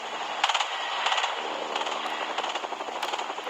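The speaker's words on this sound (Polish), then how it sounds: "tam będzie też jakieś strzały wyskoczyły" Bursts of rapid gunfire in Fortnite crackle repeatedly at moderate distance over a steady background hum, like game audio.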